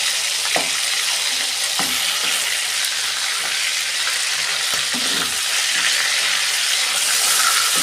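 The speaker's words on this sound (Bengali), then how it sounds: "এইভাবে সব মাছগুলো ভেজে নেব" Stingray fish pieces fry in hot oil in a pan, giving a loud, continuous sizzle broken by occasional scrapes and taps as the pieces are turned.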